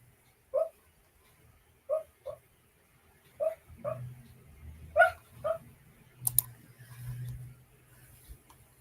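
A sleeping puppy makes soft dream noises: a string of short, faint whimpers and muffled yips at irregular intervals, with quiet stirring and a low rustle between them.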